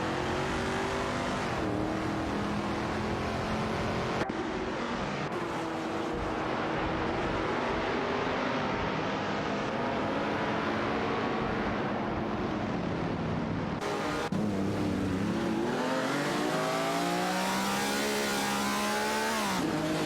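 Ferrari 250 and Lamborghini 400 GT engines in an AI-driven racing game, howling and revving through gear changes with brief tire squeal, loud and continuous throughout.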